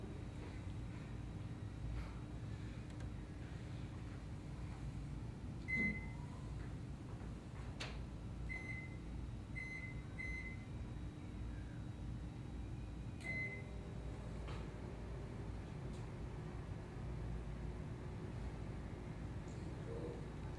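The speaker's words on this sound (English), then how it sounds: "places the conventional PCB into the 800-watt microwave" A low, steady hum of an 800-watt microwave oven running throughout with a circuit board inside, with a few faint beeps and small clicks scattered across it.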